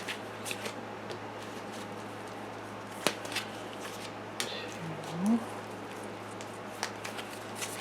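Tarot cards are shuffled and handled by hand for a weekly reading, soft crisp riffles and flicks in scattered bursts against a quiet room, close and fairly faint.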